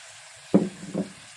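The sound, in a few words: stirring snake gourd frying in a pan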